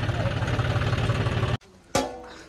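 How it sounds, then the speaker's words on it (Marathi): A tractor engine idles nearby with a steady low, throbbing rumble, then stops abruptly, followed by one sharp knock and a fading tail. "गोट्या बाईचं जे आहे ते ट्रॅक्टर वळवायला चालू आहे आता"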